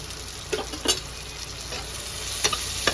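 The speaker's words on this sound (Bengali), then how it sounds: "এগুলো আমার হালকা ফ্রাই হয়ে গেছে এঁচোড়টা আমার কষে গেছে" Jackfruit pieces with tomato and kasuri methi fry in a pan, a steady close sizzle broken by a few sharp spoon-on-pan stirring clacks.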